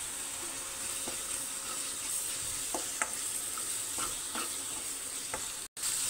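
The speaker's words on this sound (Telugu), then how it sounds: "ఉల్లిపాయ, పచ్చిమిర్చి వేసాను, వేగనిద్దాము." Onions and green chilies frying in a pan give a steady, close sizzle, with occasional light clicks and scrapes of stirring over the constant hiss.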